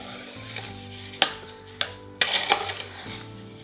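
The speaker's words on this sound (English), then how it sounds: "Quick stir." Fruit, a kilo of sugar and lemon juice are stirred together in a pan for chutney or jam, with a few sharp spoon knocks and scrapes against the pan over a low background hum, close and without talk.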